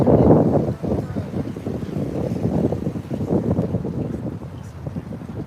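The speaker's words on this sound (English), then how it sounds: "that boat's cruising right through the water. Slicing right through." Low rumbling rush of a boat moving through water near the Golden Gate Bridge, with buffeting wind noise against the microphone throughout.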